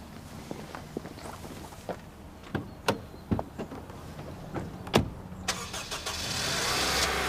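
A car's engine starts and then pulls away. Scattered clicks and footstep-like knocks come first, followed by a rising engine swell near the end.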